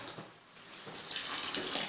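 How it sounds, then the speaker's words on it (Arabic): A thin stream of water runs into a cooking pot in a kitchen while Tunisian barley soup is made, a soft continuous pour that gets stronger toward the end, faint and close. "وش نزيدوا شويه ماء مش برشا"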